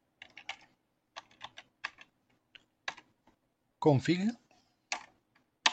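Computer keyboard keys clicking in short bursts as a command is typed, crisp nearby taps separated by pauses, with someone speaking briefly in French partway through.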